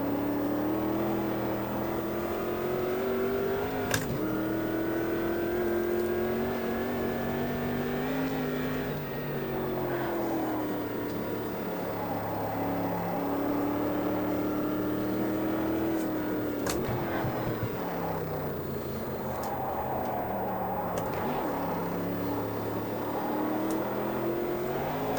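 A race car engine in the racing game Automobilista 2 drones and revs steadily through gear changes, with occasional sharp backfire pops cutting in, loud and continuous with no talk.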